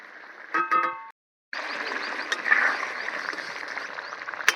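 Paneer is grated over a pan of light gravy for a potol dish, heard as close rasping scrapes with a brief silent pause between strokes.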